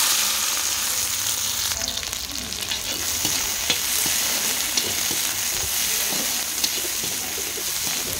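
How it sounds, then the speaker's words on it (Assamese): Ajwain and kalonji seeds frying in hot oil in a pan with fried potatoes, a steady close sizzle with occasional small pops and stirring scrapes, no voices. "এতিয়া এইকণ তেলতে দি দিলোঁ আজৱাইন আৰু কালজিৰা"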